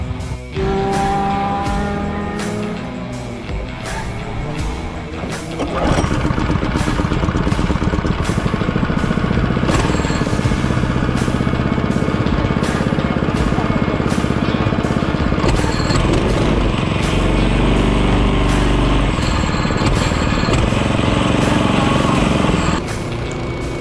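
A GX-UK junior go-kart engine in the pits at a karting track, first a rough idle, then revving up to a loud, steady buzzing drone held close for about twenty seconds.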